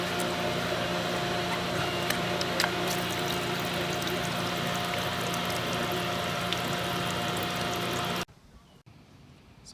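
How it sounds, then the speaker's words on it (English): Swimming pool water draining out through the drain plug below the filter, a loud, steady close rush with a mechanical hum that cuts off abruptly near the end, leaving quiet. "So while the pool's draining"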